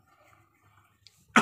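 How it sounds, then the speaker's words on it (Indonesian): A single sharp cough bursts out near the end after a stretch of near silence, close and sudden. "Saya agak batuk."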